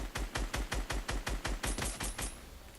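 Rapid automatic gunfire in the Fortnite battle royale game, a burst of about a dozen evenly spaced shots, loud and close, with no talk over it.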